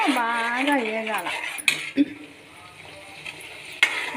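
Masala frying in oil gives a soft, steady sizzle, broken by a few sharp clinks of a metal spoon against the pan; a voice talks at the start.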